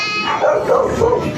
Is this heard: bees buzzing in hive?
no